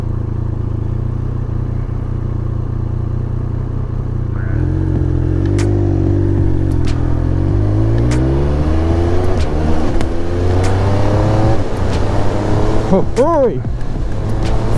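A 2023 Triumph Speed Triple 1200 RS idles with a deep steady rumble, then rises through revs with a rising whine and ends with a quick sharp blip, loud and close, with a voice briefly exclaiming.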